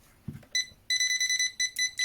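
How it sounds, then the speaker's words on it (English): Rapid electronic beeps chirp in quick bursts from a VENLAB VC-600D clamp meter's non-contact voltage detector sensing live voltage, high-pitched and close, repeating several times after a brief click. "we have the LED and we have beeping. This can detect live voltage"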